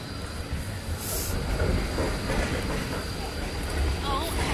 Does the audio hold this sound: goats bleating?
no